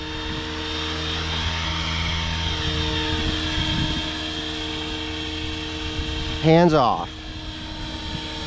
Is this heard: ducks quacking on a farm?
no